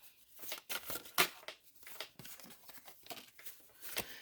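Quick papery riffles and flicks repeat in uneven bursts, close and fairly soft, like a deck of cards being shuffled by hand.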